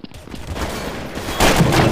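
Gunfire rattles in the Counter-Strike Source video game, a continuous noisy clatter of shots that swells louder in the final half second, with no talk over it.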